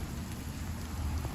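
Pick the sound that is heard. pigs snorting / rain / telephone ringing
rain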